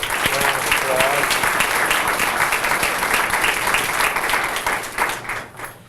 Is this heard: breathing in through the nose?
no